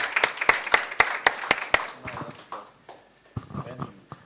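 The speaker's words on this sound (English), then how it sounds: "That deserves an applause." Audience applause at a conference session, a burst of sharp claps in quick rhythm for about two seconds, then fading into scattered handling noises and faint talk.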